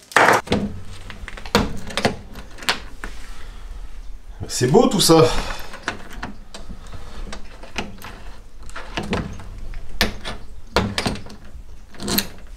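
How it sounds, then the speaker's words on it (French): A small cabinet door with a little latch is fitted onto a Wolfcraft workbench in a workshop, with scattered wooden knocks, clunks and clicks over several seconds while someone talks. "Là on va mettre la porte, ici il y a une petite porte avec un petit verrou."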